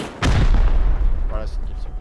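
A single loud, close gunshot blasts out and rumbles into a rolling echo during a raid defense in the survival game Rust, with faint activity trailing off behind it.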